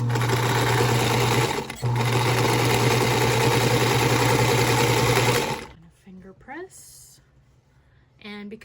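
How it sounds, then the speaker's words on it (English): A sewing machine stitches quilt fabric for an easy, precut-friendly potato chip quilt block, running loud and steady for about five seconds with a brief dip near the start, then stopping, leaving faint small sounds. "I'm going to run this through my sewing machine."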